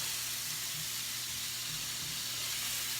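Diced aromatics sautéing in a pot as the base for beef stew, a steady close sizzle and hiss with a faint low hum beneath, no talking.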